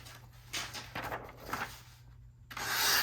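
A new GEC knife slices through a sheet of paper in a few quiet, close rasping strokes, separated by brief pauses, the last stroke the loudest, with no talking.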